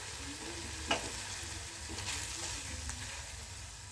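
Spinach masala cooking down in a pan until dry, a soft continuous sizzle with a single sharp spoon tap and a few light stirring scrapes, close and quiet.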